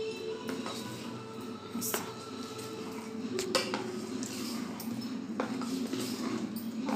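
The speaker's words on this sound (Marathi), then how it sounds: "असं छान मिक्स करून घ्यायचं।" A spoon clinks and scrapes against a bowl as mixed-dal appe batter is stirred, with steady, repeated close-up clatter at moderate volume.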